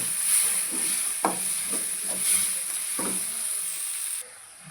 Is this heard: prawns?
yes